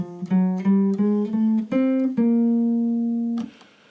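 An instrument plays a Barry Harris chromatic scale, a run of short notes climbing in small half-step increments, each evenly spaced, finishing on a longer sustained tone.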